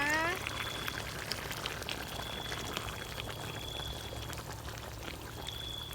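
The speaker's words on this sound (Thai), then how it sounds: "เสร็จแล้วเราก็เติมหัวกะทิลงไปที่หลังเลยนะคะ" Coconut cream pours steadily into a simmering pot of catfish curry with fresh coconut milk, a soft continuous liquid rush that runs at an even level throughout, with faint background noise.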